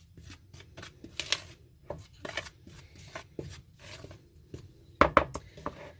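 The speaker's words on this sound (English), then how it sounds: "So we're going to go ahead and get all those dry ingredients mixed together" Dry flour, salt and baking soda being stirred together in a bowl, heard as soft, irregular scraping and tapping strokes, close up, with a few sharper clinks near the end.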